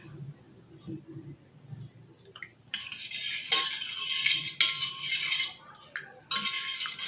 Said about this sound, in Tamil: அந்த லெமன் ஜூஸை எடுத்துகிட்டு இதில் நல்லா போட்டு கலக்கிக்குங்க